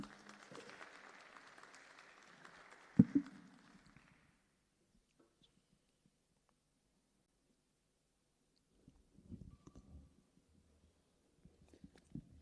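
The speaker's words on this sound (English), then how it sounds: "Let's give a beautiful round of applause." Summit audience applause, a brief patter of clapping that fades out within a few seconds, followed by near silence and faint handling noises.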